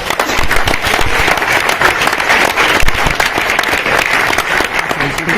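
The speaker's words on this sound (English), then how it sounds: "Please, a big applause." Dense, steady applause from a large audience at a global business summit fills the room continuously and loudly, with no voices standing out.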